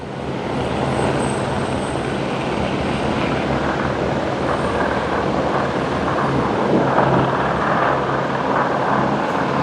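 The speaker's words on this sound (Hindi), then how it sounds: "आ चुका है हेलीकॉप्टर, लैंड करेगा अभी।" Steady loud roar of a helicopter landing close by on the Hemkund Sahib pilgrimage route, a constant whooshing engine and rotor noise that fills the whole stretch without letting up.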